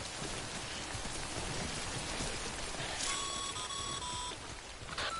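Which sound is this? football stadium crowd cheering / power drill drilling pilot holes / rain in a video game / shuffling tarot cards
rain in a video game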